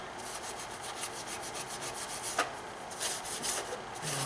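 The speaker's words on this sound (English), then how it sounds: "I want to get all this gasket material out so I have a nice sealing surface." Scraping of old gasket material off the oil filter housing of a BMW E90 3 Series, a close, steady run of rasping strokes with no talk.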